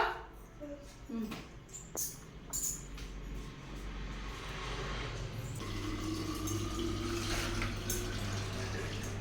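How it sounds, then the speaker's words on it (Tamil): Water runs from a tap into a can in a home kitchen, a steady splashing flow that deepens into a constant filling hiss in the second half, with faint background noises early on. "ஒரு கேனா தண்ணி பிடிச்சி வச்சுக்கலாம்."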